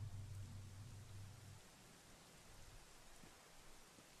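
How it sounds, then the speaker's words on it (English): Rain falls in the video game Dragon Quest XI Definitive, a faint, steady, even hiss with a low hum in the first second and a half. "No, it's raining."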